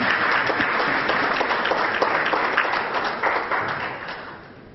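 A crowd at a foundation launch ceremony applauds as a professor is invited up, with loud, sustained clapping that fills the room and gradually tapers off toward the end.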